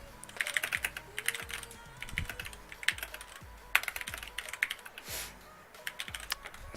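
Keys clack on a computer keyboard in quick irregular bursts, with short pauses between words and a few sharper key strikes, close and fairly quiet with no voices.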